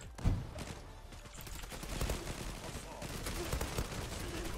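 Gunfire from the online shooter game Zula: a loud burst of shots at the start, then rapid, dense shots and clattering continuing steadily over a busy game background.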